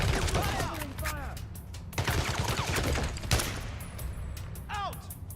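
Gunfire in the video game James Bond 007: Blood Stone, rapid bursts of automatic shots and sharp single cracks, loud and close, mixed with shouting voices and battle clutter.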